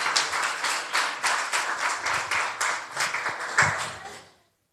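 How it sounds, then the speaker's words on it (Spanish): A church congregation applauds together, dense rhythmic clapping close by with a slight pulsing beat, holding steady for about four seconds before stopping abruptly. "Dele el aplauso al Señor."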